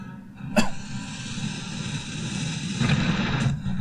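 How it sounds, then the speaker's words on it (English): An in-game bomb explodes in the action game Omensight, giving a sharp close blast followed by a second burst a few seconds later over a low rumbling backdrop. "Bomb."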